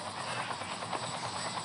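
A helicopter's steady, dense rotor and engine roar in a Roblox Spider-Man prison obby game fills the whole moment, constant and close with no pauses.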